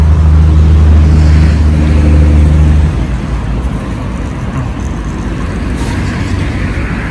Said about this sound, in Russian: машины.